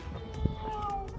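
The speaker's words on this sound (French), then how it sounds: "c'est vraiment la rue des chats. C'est vrai, il y a des chats partout." A cat meows once, briefly and moderately close, on a busy Istanbul street, over steady traffic and crowd noise with a high tonal hum running through it.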